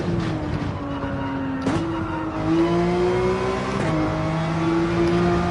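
Race car engine held at partial throttle in a racing video game, a steady loud drone whose pitch eases down, then climbs and holds through brief shifts, with no talk over it.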